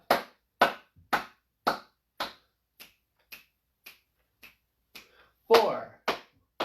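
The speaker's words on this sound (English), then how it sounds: "We're going to do the slap, clap, and snap." A home workout warm-up of rhythmic slaps, claps and finger snaps: about a dozen crisp, evenly spaced hits, loud at first and then softer, with one heavier thump near the end.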